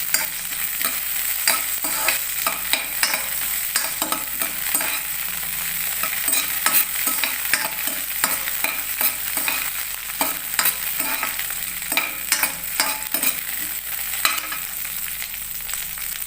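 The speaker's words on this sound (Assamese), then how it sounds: "এতিয়া ইয়াতে মই বাদামখিনি ফাৰ্ষ্ট ভাজি লওঁ" Shelled peanuts fry in a pan as the first step of a semolina laddu, with a steady close sizzle and repeated scraping stirs of the spoon throughout, and no talking.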